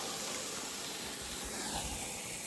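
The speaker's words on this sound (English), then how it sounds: "We got the barbecue ripping" Lemon sausage sizzles on a camping barbecue grill at Lake Berryessa, a faint, steady hiss with soft crackle and low outdoor rumble beneath.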